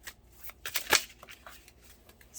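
Tarot cards being shuffled and slipping loose, a few soft papery flicks and slaps with one sharper snap, close and fairly quiet, with no talking.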